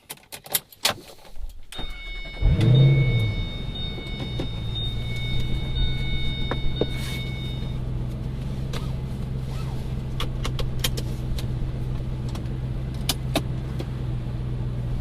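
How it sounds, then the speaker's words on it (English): A 2005 Ford GT's engine fires up after some clicks and rustles inside the cabin, then holds a low, steady rumble heard from within the car, with small interior rattles and taps over it. "So we're going to go for a quick drive and talk about it."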